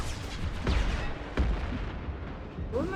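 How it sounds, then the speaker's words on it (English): Rocket explosions in the video game Mass Effect Legendary Edition, several heavy booming blasts in quick succession amid continuous rumbling battle noise, with a whooshing projectile near the end. "Wow, rockets!"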